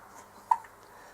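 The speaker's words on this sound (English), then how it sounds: "He's got the hiccups." Baby hiccuping, a single short, faint hiccup at close range in an otherwise quiet room.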